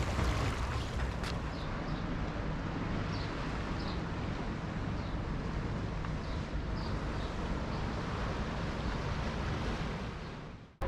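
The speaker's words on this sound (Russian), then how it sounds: "Шум моря." Sea surf washes against the shore in Antalya, a continuous broad roar of waves mixed with wind rumbling on the microphone, steady throughout with no talking.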